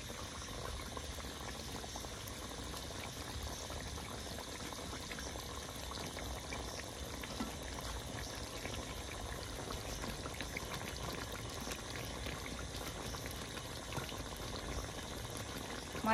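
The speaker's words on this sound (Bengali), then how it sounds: "তরকারিটা জাল হয়ে গেছে।" A pot of Bengali curry with fish roe fritters boils steadily, its dense, even bubbling and simmering close by and continuous throughout, with no voices.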